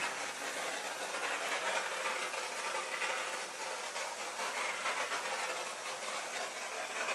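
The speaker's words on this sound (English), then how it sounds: "And you can see the steamer's working." Monster EZ1-XL Pro floor steamer releasing steam while cleaning a floor, a steady broad hiss running continuously and evenly, close and moderately quiet, with no talking.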